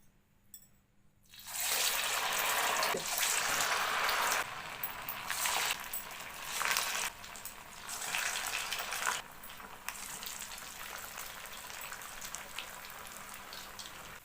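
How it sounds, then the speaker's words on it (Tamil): Sabudana vada patties dropped into hot oil, a loud continuous sizzle that starts abruptly and wavers in intensity as more vadas go in. "இப்போ எண்ணெய் நல்லா காஞ்சிருச்சு. கையில் கொஞ்சம் தண்ணி தொட்டுக்கிட்டு நம்ம வடைகளை தட்டி போட ஆரம்பிக்கலாம்."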